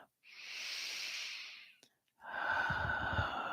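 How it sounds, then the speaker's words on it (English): Two deep, slow breaths taken close to the ear: a long airy inhale, a short pause, then a fuller, rougher exhale with a soft hiss, quiet and alone in a calm room. "Now taking another deep and clearing breath"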